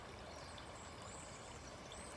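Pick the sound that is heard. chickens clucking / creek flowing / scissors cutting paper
creek flowing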